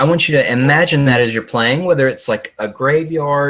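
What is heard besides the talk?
No everyday noise stands out behind the speech.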